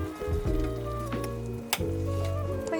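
Samgyetang chicken soup bubbles and simmers in an open pot over medium heat, a steady close sizzling hiss with small pops and a brief clink partway through.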